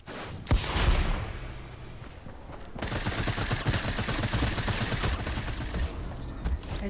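Fortnite gunfire opens with a sharp single shot. Later a longer burst of rapid automatic fire rattles on steadily at moderate loudness, with no talking over it.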